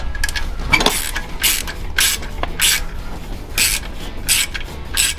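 A ratchet tightens a nut on intake brackets during a Plymouth Volare engine build, a series of quick metallic clicking bursts in short separated strokes, close and moderately loud, with faint clinks in between.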